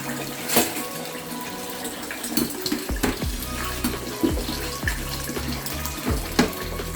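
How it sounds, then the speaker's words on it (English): Cold water pumped from a tap into a pan to wash rice, a loud, close, continuous rush of running water with sharp clanks and splashes from the pan and rice at irregular intervals. "I pump some cold water in it."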